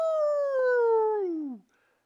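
A single voice imitates a wolf howl, one long falling note with strong harmonics that holds steady for about a second and a half, then slides down and cuts off into silence.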